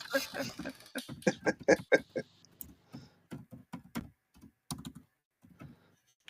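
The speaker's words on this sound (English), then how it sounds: "somebody's typing away" Rapid clacking keystrokes on a computer keyboard, irregular bursts of taps close by, thinning out to scattered presses near the end.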